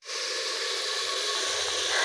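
Spices sizzle in hot oil for a tempering with chopped onions, a steady, close hiss that holds evenly throughout without any voices.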